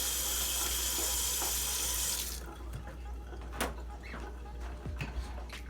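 A kitchen faucet runs in a steady hiss of water for about two seconds and is then shut off, leaving a quiet room with a few soft clicks and handling sounds.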